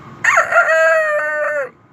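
A voice imitates a rooster crowing: one loud, close, drawn-out cock-a-doodle-doo lasting well over a second, then silence.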